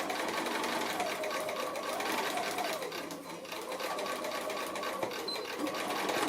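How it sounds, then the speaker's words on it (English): Sewing machine stitching through quilt fabric, a loud close continuous whirring hum that dips briefly midway for a short back stitch before running on steadily. "I'm going to stop sewing right at that point and do a little back stitch."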